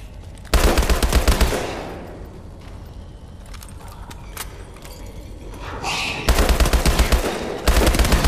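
Call of Duty Advanced Warfare Exo Zombies gunfire: a loud sustained automatic burst, a quieter stretch with scattered clicks and shots, then two more rapid bursts near the end, no talk.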